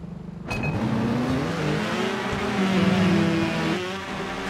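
Motorbike engine in the Trials video game, revving steadily with a rising and falling pitch after a sharp onset, loud and close throughout with no talking.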